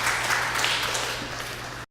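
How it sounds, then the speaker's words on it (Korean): A church congregation applauding the fathers, dense steady clapping filling the room for a couple of seconds before cutting off abruptly. "오늘 우리 아버지들에게 박수 한번 합시다"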